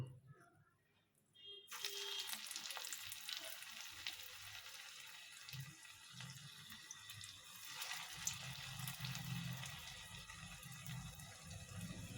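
Vegetable koftas sizzle steadily in hot oil, a dense crackling hiss that starts abruptly after a quiet opening and carries on, close and fairly loud, with some bubbling swells toward the end.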